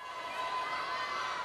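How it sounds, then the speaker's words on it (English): A crowd cheers and shouts steadily at an all-girl youth cheerleading competition at the European championships, a continuous roar of voices with high-pitched yells throughout, loud and close with no pauses. "You can hear the crowd"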